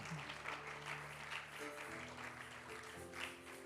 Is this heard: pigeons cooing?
no